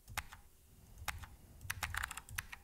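Keystrokes on a computer keyboard while entering a request address, sharp clicks in an uneven rhythm with a brief pause and then a quicker cluster of taps, close and distinct with no talking.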